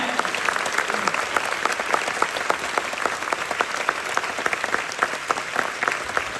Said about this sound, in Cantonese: 俾啲掌聲 Candor 嘅團隊同埋 operator 嘅